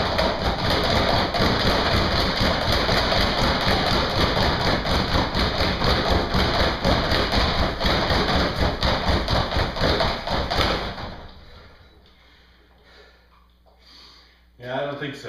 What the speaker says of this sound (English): the noise of hitting the bag